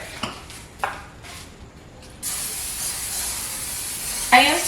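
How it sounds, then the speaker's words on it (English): Cooking oil spray hisses steadily for about two and a half seconds as a pan is coated thickly in a home kitchen, following a few soft knocks and movements, with a faint clink at the end. "I am spraying it kind of thick,"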